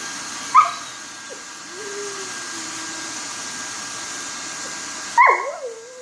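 A dog barking and whining downstairs during welding training, one sharp yelp followed by a quiet low whimper, then a second bark and whine a few seconds later, somewhat distant and alone.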